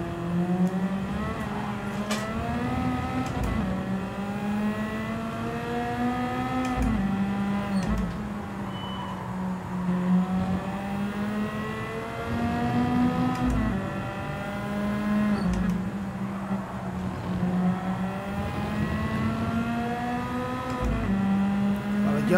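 Nissan race car in Gran Turismo 7 revving continuously as it accelerates, engine pitch climbing and dropping with gear changes, loud and steady throughout with no talk.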